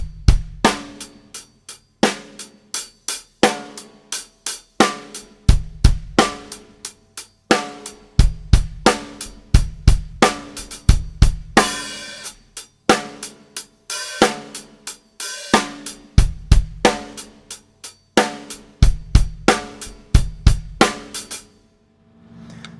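A drum kit plays a song's groove at a slow tempo with hi-hat lifts, a steady loop of kick, snare and cymbal hits repeating the four-bar phrase, close and loud with no other instruments.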